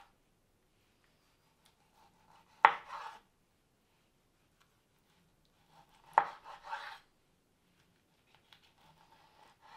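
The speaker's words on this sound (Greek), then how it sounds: "Κόβουμε σε φέτες τις αποφλοιωμένες ντομάτες." A knife slices through peeled tomatoes onto a board in two distinct cutting strokes, each a sharp thud followed by a brief scrape, quiet and close with silence between.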